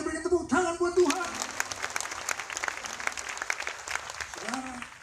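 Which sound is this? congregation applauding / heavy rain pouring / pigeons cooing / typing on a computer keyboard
congregation applauding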